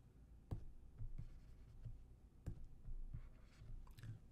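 A pencil or pen writes out a fourth-grade fraction math problem, with soft scratchy strokes and intermittent taps and clicks at close range, no talking.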